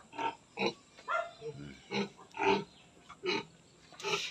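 Pigs grunting and oinking close by in short repeated bursts, about eight grunts spaced fairly evenly, with no talking.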